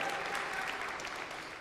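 A crowd at a student pride event gives a short burst of steady, even applause, fairly quiet and sustained throughout with no talking over it.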